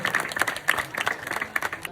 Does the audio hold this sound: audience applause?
yes